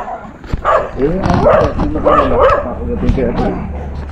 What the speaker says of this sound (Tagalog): Tahol-tahol lang yan.